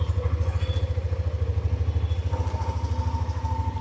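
A Hero Xtreme 125R motorcycle engine running at a steady, even idle, its rapid low pulsing close and continuous, with no voices.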